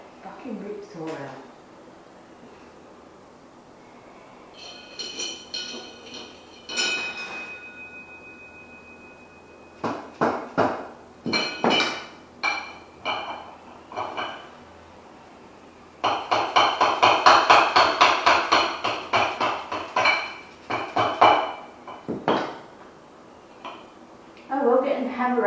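Soft mallet knocking on trials motorbike parts during a rebuild, sharp metallic clanks and taps in irregular bursts, near and fairly loud, with occasional voices between blows.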